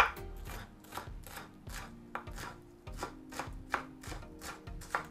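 A knife chops chili peppers into small pieces on a cutting board, about a dozen crisp, evenly spaced knocks at a steady rhythm, close and clear with no talking.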